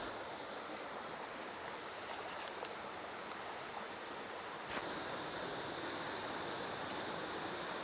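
A waterfall on the east side of Koh Chang rushes steadily over rocks into a rocky stream with small pools. The water noise is continuous, full and close, and it grows slightly louder partway through. No voices are heard.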